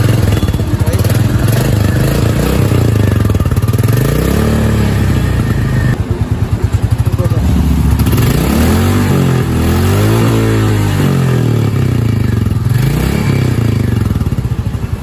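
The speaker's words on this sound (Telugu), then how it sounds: "ఒకసారి ఎగ్జాస్ట్ సౌండ్ అనేది కూడా మనం విందాం." A 2023 Royal Enfield Bullet 350 with the J-series engine idles with a steady, loud exhaust thump, then is revved several times in rising and falling sweeps, heard up close and alone throughout.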